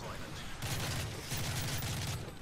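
Bursts of automatic gunfire and battle noise from Modern Warfare 3 team deathmatch on the Resistance map, two sustained rattling volleys over a dense, loud game mix.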